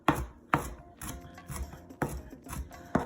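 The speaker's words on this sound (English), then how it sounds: "we're just going to go ahead and do a rough chop on the cilantro" Knife rough-chopping fresh cilantro on a cutting board for salsa, with a run of about seven sharp, close chops at a steady, brisk rhythm, heard alone.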